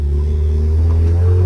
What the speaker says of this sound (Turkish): Araba geliyor lan. Oo,